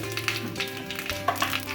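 Dried chillies, asafoetida, curry leaves and mustard seeds fry in hot oil as a tempering for dal, giving a close, steady sizzle with small crackles and pops, with no talking.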